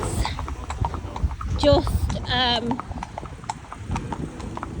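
Two horses' hooves clip-clop steadily on a main road while hacking out, a near, even rhythm of shod strikes, with someone talking over them.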